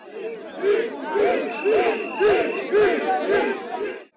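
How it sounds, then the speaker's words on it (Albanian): Opposition protesters near parliament shout and chant in loud, rhythmic bursts as a dense crowd surges toward a police cordon, the roar rising and falling about twice a second without pause. "Protestuesit ishin euforik dhe u afruan vrullshëm në kordonin e policisë."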